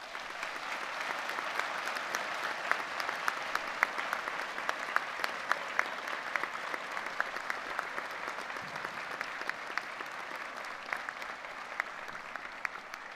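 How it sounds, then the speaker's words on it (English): Sustained applause from a graduation ceremony audience for a School of Science, Engineering and Environment, dense steady clapping at even loudness throughout with no talk. "please, could we give a big round of applause?"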